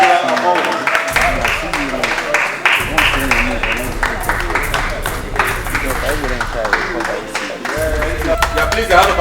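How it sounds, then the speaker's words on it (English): Audience applause greets a guest called to the stage at a Nigerian Igbo event, clapping running steadily throughout under loud talk and music. "please a hand of applause as he comes"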